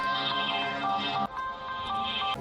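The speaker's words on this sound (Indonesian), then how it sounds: "Lebih baik kita telepon aja deh Papa Dion." A phone call ringing tone sounds at night inside a house, a steady electronic warble that repeats alone with brief breaks, fairly loud and close.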